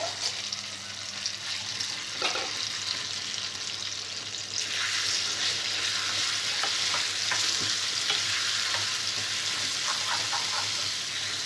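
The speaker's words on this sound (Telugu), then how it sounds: "తాలింపు ఫ్రై అయిన తర్వాత మనం ముందుగా రెడీ చేసి పెట్టుకున్న పచ్చడి వేసుకోవాలి" Gongura chutney tipped into a frying tempering with curry leaves and stirred, a sustained sizzle with scraping spoon strokes and a surge of hissing midway, close and steady with no talking.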